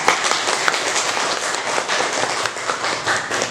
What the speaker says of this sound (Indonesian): Kasih tepuk tangan untuk aku.